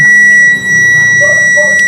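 A multimeter continuity buzzer sounds a steady high-pitched electronic tone continuously while testing a Yamaha Mio scooter's stator, with low background rumble beneath it.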